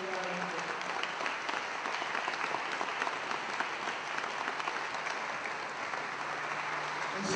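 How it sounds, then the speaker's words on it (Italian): An audience at a gathering of an Italian church group gives sustained applause, a dense, even roar of many hands clapping together that holds steadily without a break, with no voices over it. "si merita un grande applauso di Franco."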